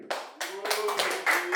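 A rap battle audience cheers and claps for a rapper, bursts of applause and shouting starting abruptly and building over a second and a half, with loud overlapping voices in the crowd.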